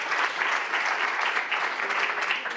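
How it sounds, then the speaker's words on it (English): At a 2021 sustainability conference, the audience gives a round of applause for three panel speakers; a steady, moderately loud patter of many hands clapping that runs continuously with no voices. "A big round of applause for the three of you"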